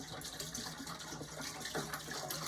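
Raw whole milk being poured into a pot, a gentle gushing trickle with faint splashing, close and quiet, continuous for a couple of seconds.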